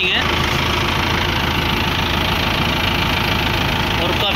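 A Massey Ferguson 2635 4x4 tractor engine idles with a steady, close, knocking diesel chug, while someone talks over it.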